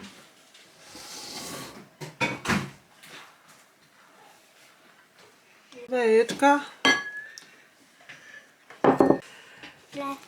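Pizza dough with milk is mixed and kneaded in a bowl in a home kitchen, giving scattered clinks and knocks of utensils against the bowl with quiet gaps between them, while a voice talks in between.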